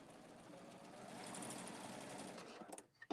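Rapid, steady whirring of a serger sewing machine stitching lace, running continuously at close range before slowing and stopping at the end.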